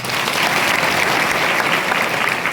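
Dense, continuous applause from a large crowd at a tribal rights gathering, a steady wash of clapping with no pauses.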